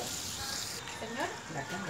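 Two sticks of margarine melting with half a head of minced garlic in a large pot give off a steady, bright sizzle that fills the whole moment, with faint scraping near the end.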